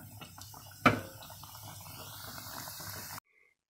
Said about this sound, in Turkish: diğer açmış olduğumuz pişilerimizi de kızartalım